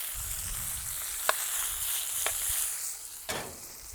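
Courgettes sauté in a hot pan, a soft continuous sizzle with a few brief clinks of utensil against pan, fairly quiet and close.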